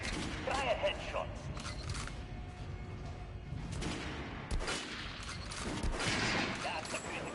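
Gunfire in Metro Last Light aimed at an armored enemy, a run of shots and impacts layered over continuous game noise and a talking voice.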